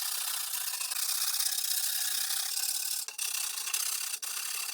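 The metal part of a skate tool rubs and rasps steadily along the edges of skateboard grip tape, a continuous close scraping with two brief dips in the strokes and no talk.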